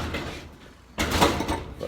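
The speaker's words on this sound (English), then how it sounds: "I'm just going to open this door." A door swings open in a workshop where pipe is being cut, a sudden loud rush of noise about halfway through after a quieter stretch of room hum.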